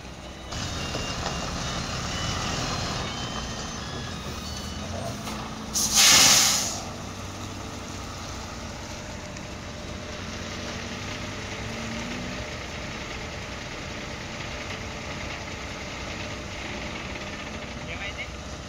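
An Ashok Leyland truck is stuck in mud, its engine idling low and steady. A single sharp hiss of air bursts out midway, and people talk over the rumble throughout.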